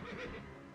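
Horses neigh in the video game Reverse: 1999, a brief, faint whinny set against a dense, washy backdrop of game sound.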